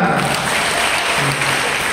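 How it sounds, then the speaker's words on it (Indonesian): Audience applause at an Indonesian religious and health lecture, a steady wash of many hands clapping from a crowd, continuous and fairly loud throughout. "Tepuk tangan untuk kita."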